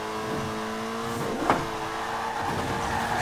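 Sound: car engine in the video game Forza Horizon 4

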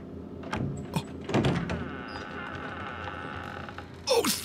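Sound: door opening in the video game Resident Evil 7

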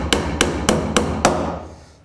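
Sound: hammer nailing back panel onto wooden insect hotel

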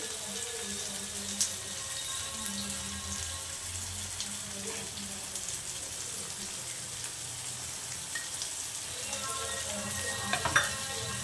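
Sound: spice powder frying in tempering

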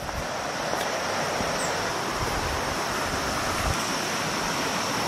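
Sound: river El Durazno flowing

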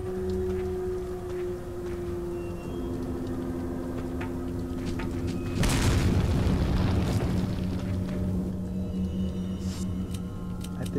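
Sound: grenade explosion in video game Resident Evil 4

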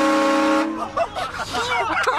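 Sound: Honda CB1000R motorcycle horn

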